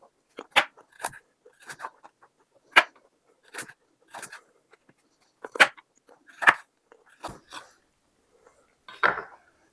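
Crunchy carrots being chewed up close while preparing a charcuterie board, a run of sharp, separate crunches at uneven intervals with quiet pauses between bites.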